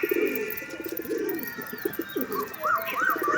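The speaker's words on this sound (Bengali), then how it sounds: "এদিকে সব পায়রা আছে" Pigeons in a loft coo in low, throaty bursts close by, joined toward the end by a few brighter chirps.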